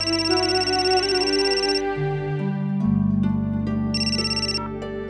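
A phone ringtone plays loudly and continuously, a repeating electronic melody with shifting tones and no talking.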